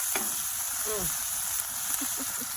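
A butter burger cooks in grease and butter on a Big Green Egg grill, giving an even close sizzle with a few faint scrapes, while a voice is briefly heard in the background.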